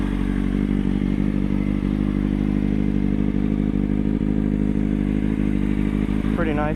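Idling motorcycle engine running steady and loud up close, a continuous low throb with clatter, ending in a quick rising rev; a voice talks briefly over it.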